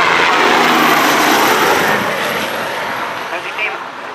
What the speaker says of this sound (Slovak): medzi tým vidíte prelet vrtuľníka Bell 429